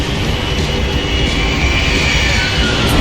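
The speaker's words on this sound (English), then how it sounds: "The other plane!" An airplane roars in the Max Payne 3 video game, a loud, dense, continuous rushing engine noise that fills the whole moment without breaks or voices.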